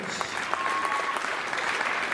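Steady crowd applause fills a high school gym during senior recognition for indoor track athletes at a John Bapst at Foxcroft girls basketball game, dense clapping throughout with faint voices mixed in.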